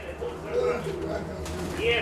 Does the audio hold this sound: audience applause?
no